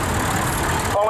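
A vintage Oliver tractor engine runs steadily during a show parade, a continuous mid-range rumble heard close and fairly loud with a busy outdoor background.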